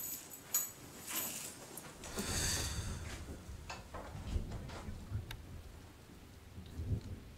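Thunderstorm with heavy rain, a steady wash of rain pattering on surfaces while thunder rumbles and cracks several times, strongest near the middle and again toward the end.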